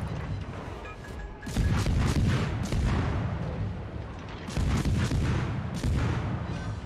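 Heavy naval gunfire from warship main batteries in World of Warships booms out in two loud salvos, each a broad thunderous blast with rumbling tail, with no talk over them.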